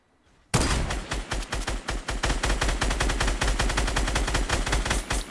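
Rapid video-game gunfire in a battle-royale match bursts in after a brief quiet start, a loud, dense stream of shots continuing steadily to the end.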